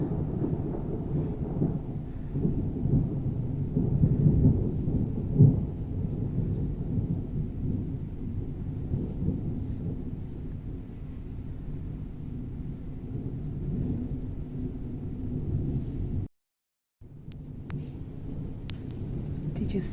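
Thunder rumbles steadily through a thunderstorm in Somerville, a loud low roll lasting most of the stretch with a brief dropout near the end, while a voice speaks faintly underneath.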